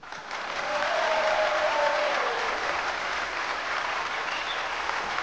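Steady, dense audience applause at a French TV game show fills the room for several seconds, a loud sustained wash of clapping feeding an applause meter.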